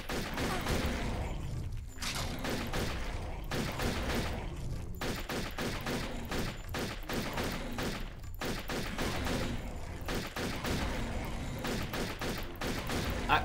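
Turok 3 gunfire: a long, steady run of rapid, fairly quiet shots crackles at close range with only brief gaps, with no talking over it.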